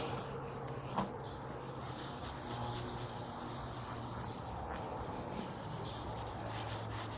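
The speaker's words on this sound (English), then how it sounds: "Okay, so I have a dry microfiber cloth this time, and yeah, let's see what it does." A dry microfiber cloth rubbed against a car headlight lens gives a steady, soft scrubbing swish that continues close up through the whole stretch, with no talking.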